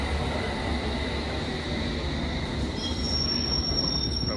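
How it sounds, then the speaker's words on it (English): A London Underground train on the District and Hammersmith & City lines screeches with loud, continuous wheel squeal against the rails, rumbling steadily close by with a high metallic whine rising near the end, and no voices. "I got down from this train."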